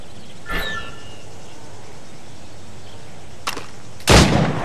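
Gunshots at targets in the video game Assassin's Creed Rogue, three separate cracks spaced apart, the last the loudest and closest, over a steady ambient hiss.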